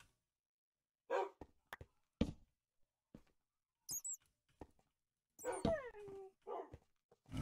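Tamed wolves in Minecraft barking in short, sparse yelps and a few whines, close and fairly clear against near silence, with scattered gaps between calls.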